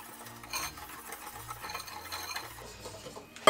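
Gingerbread mix of flour, baking powder and sugar stirred in a bowl, with soft scraping and rubbing strokes and light clinks of a utensil against the bowl, quiet and close, ending in a sharper knock, with no one talking.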